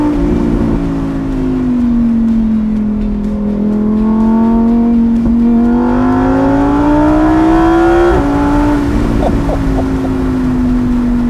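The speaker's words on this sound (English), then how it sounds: "Nothing like a naturally aspirated V10." A naturally aspirated V10 supercar engine: a loud, sustained high-revving note with a rich harmonic drone, rising and falling in pitch as it is held on throttle.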